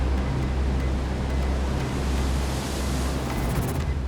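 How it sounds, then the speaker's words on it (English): Huge six-metre storm waves pound a solid coastal house during the 2016 Sydney superstorm, a loud, steady, roaring wash of surf with no pauses. "it almost felt like it was moving the house because of the crashing of the waves"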